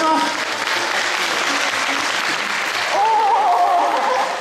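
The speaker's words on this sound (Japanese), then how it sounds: "カラーの皆さんに拍手をしてあげていただきたいと思います" Steady crowd applause at an outdoor mascot-character event in a Gifu shopping arcade, dense clapping throughout with a faint whistle-like tone rising near the end.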